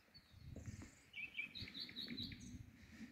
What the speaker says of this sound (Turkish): Bak sen de şu kuşu var ya millet zil sesi yapıyor mesela.